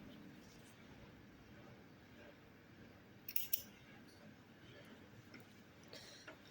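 Scissors snip through crochet yarn while a small amigurumi watermelon keychain is being finished. A couple of faint, quick cuts stand out against a very quiet background.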